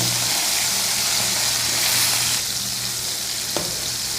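Gulsha fish fry lightly in a pan with a steady, loud, hissing sizzle that continues throughout, close up, with a faint low hum underneath and a brief soft knock near the end.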